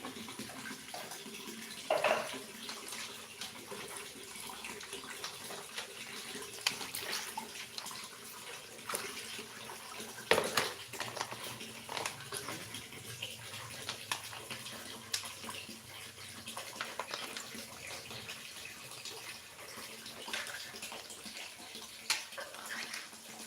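Tap water runs steadily into a sink while fish and chicken are washed, a continuous splashing wash with occasional louder knocks and clatters, no talking.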